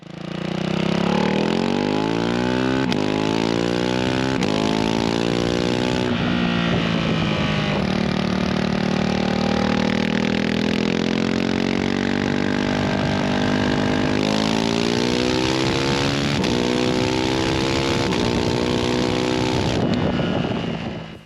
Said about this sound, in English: how about that stock exhaust?